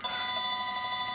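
A telephone rings in a room during a relaxed conversation at home, a steady electronic trill held for the whole brief moment, fairly loud and close, with no talking over it.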